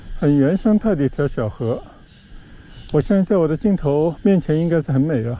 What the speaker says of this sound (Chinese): 听的蝉鸣